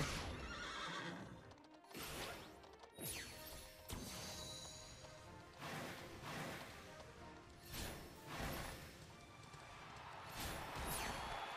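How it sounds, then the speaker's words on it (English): Dragon Quest XI horse sounds: repeated neighs and whinnies over a steady rumble of hooves, with occasional whooshing swipes, all fairly faint. "I'm trying to drift my horse"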